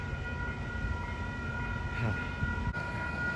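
A Metrolink train on the Inland Empire-Orange County Line passes in San Clemente, California, a faint, steady rolling rumble with a thin tonal whine held throughout.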